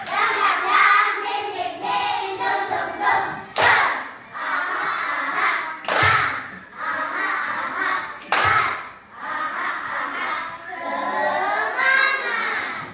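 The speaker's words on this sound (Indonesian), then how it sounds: "Oke, tepuk semangat" A classroom of students performs a rhythmic spirit clap, bursts of hand claps in patterned beats with shouted calls mixed in, loud and close, pausing briefly between rounds.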